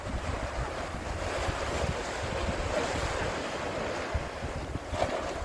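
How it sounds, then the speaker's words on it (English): Sea waves surging against a concrete sea wall at Lyme Regis, a continuous rushing wash of surf with wind buffeting the microphone, steady and fairly close, with no talk. "You can see all the waves coming up against the"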